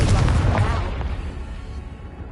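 A Confringo blasting spell in Hogwarts Legacy bursts with a deep, close boom that rolls off into a fading rumble over about two seconds.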